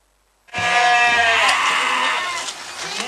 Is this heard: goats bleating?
yes